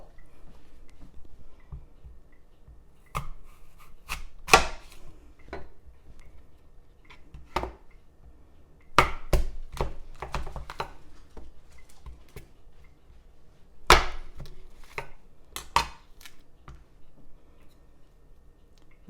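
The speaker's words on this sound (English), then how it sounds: "I quarter the apple and then I cut the center out of it. And then I cut them in slices like that." A knife slices Granny Smith apples on a board, with scattered crisp cuts and clicks, some single and some in quick bursts, close and fairly quiet over a near-silent room, with no talking.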